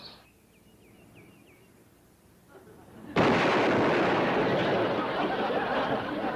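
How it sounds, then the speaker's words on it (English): After a quiet stretch with faint chirps, a sudden loud cannon blast booms and rumbles on, filling the remaining seconds. "Sounded like a cannon. He's fired the first shot."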